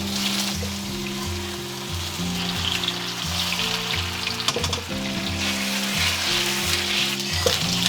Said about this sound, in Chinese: 我们再下入豆腐，然后保持中火煎